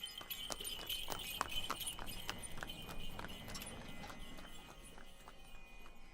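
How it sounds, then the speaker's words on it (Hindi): A horse's hooves clip-clop at a steady walking pace while it carries a rider, regular sharp clops under a faint background hiss, moderately close. "उन्होंने हंसकर हामी दे दी और मुखिया अमोलक दास को घोड़े पर बिठाकर घुमाने चल पड़े।"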